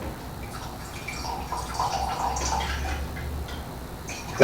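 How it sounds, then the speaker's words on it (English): Very cold ice water is splashed into a glass of Mansinthe absinthe, giving a short, soft liquid pour and splash up close with faint trickling, heard alone. "And all I've got here is just really cold ice water. We're just going to splash it in there, let it cream up a little bit."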